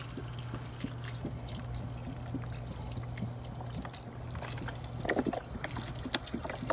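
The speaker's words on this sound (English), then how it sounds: "And now we're also gonna add in the beef broth" Beef broth pours steadily into a hamburger stew pot of browned ground beef, a continuous close liquid splashing and trickling over a low background hum, with no talk.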